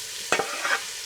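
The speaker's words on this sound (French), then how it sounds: "J'ajoute mes oignons émincés." Sliced onions drop into hot oil in a preheated stainless steel pan and hiss into a steady sizzle, with a couple of sharp stirring scrapes near the start and no talking.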